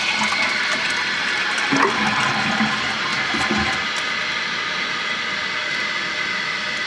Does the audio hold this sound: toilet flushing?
yes